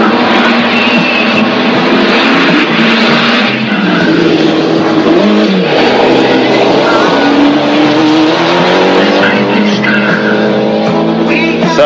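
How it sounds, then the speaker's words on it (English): A Cosworth Ford Escort rally car at the 1993 WRC New Zealand roars loudly and continuously at full throttle, the engine note rising and falling through gear changes with tyre scrabble on gravel and crowd or commentary noise underneath. "So great shots there of the Cosworth Ford Escort"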